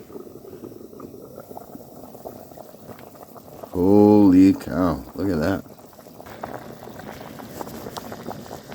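A pot of beef stew boils steadily at a winter campsite with continuous bubbling and hiss, while a man briefly exclaims over it midway.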